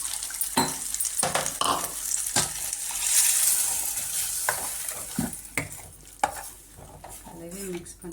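A spoon stirs ground coconut paste into mor kuzhambu in a pan, scraping and clinking close by with a soft sizzle underneath, no talking.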